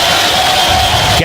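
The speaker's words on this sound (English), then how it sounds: "Crowd's been incredible today." Loud, dense stadium crowd at an NCAA baseball super regional game between Tennessee and Arkansas in Fayetteville, roaring and cheering steadily with two outs in the eighth inning, sustained broadband noise throughout.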